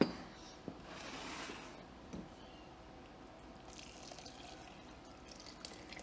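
Strawberry juice poured through a strainer, a faint trickling liquid stream with soft splashes and drips, quiet and close without talk.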